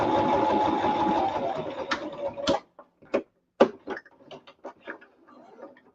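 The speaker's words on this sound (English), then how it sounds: "sewing machine, but it was blue and it matches my room, so I ended up buying it. But it literally does like 2 stitches." A small blue sewing machine stitches with a fast mechanical whirr and rattle for about two and a half seconds, then breaks into a few short, sharp bursts and clicks, close to the microphone.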